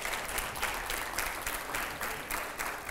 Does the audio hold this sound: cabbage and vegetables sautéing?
no